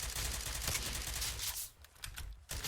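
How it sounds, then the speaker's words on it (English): Gunfire in Surviv.io during a clan war match, a dense rapid crackle of overlapping shots running nearly continuously, briefly easing off before a final loud burst. "Shots coming in."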